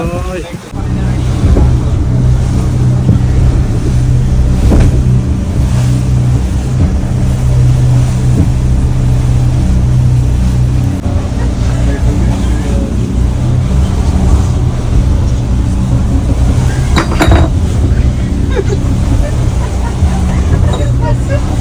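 A motorboat crosses rough open sea off Bali against the waves, its engine droning loud and steady as the hull thumps through the swell, with people talking over it.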